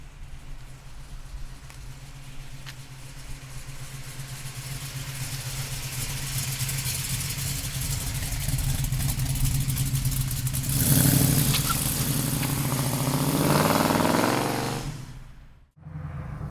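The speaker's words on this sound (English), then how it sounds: "let's take the 68 Camaro big block for a ride. Listen to that exhaust." A 1968 Chevrolet Camaro big-block engine rumbles at idle, then its exhaust swells into loud throaty revs before cutting off briefly near the end.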